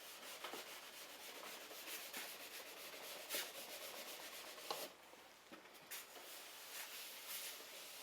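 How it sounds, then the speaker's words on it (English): Brush scrubbing wax off a Nordic skate ski, a continuous close, rough scratching with rhythmic back-and-forth strokes and a few brief pauses, no voices. "The kind of end test is when you brush it and no wax dust comes off."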